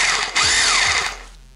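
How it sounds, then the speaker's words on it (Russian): Bosch GBH 2-26 DRE rotary hammer in chiselling mode, a short loud burst of motor whine and rapid hammering that winds down after about a second. "В режиме удара долбления."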